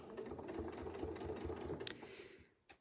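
A sewing machine runs in a fast steady whir while stitching a quilt, then stops near the end, followed by a couple of faint clicks as the stitching is tacked off.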